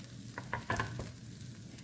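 Turmeric-tinted poha, flavored with salt and coriander, is stirred in a pan. There are a few soft scraping and clinking stirs over a faint, steady sizzle, close and quiet.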